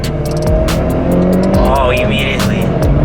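Hyundai Veloster N accelerating hard in a quick pull, engine note rising steadily and filling the clip from inside the cabin, with a voice talking over it.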